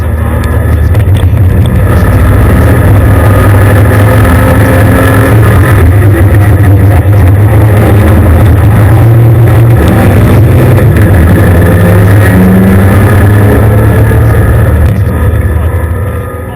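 Porsche race cars in a BRSCC Porsche Championship race at Silverstone roar continuously and loudly through the whole stretch, engines droning steadily with a commentator talking over them.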